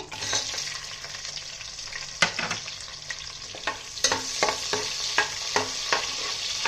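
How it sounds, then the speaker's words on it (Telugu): Sliced onions fry in oil with cinnamon for Guntur-style chicken biryani. A close, even sizzle is punctuated by repeated spatula knocks and scrapes against the pan as they are stirred. "ఇప్పుడు ఉల్లిపాయలను వేసుకుంటున్నాను"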